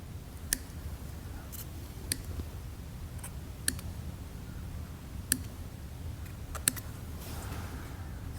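Scissors snip through material from the inside while coating an APG Bronco ProRunner's wheels and suspension, giving sparse, sharp clicks spaced a second or more apart over a low steady background hum.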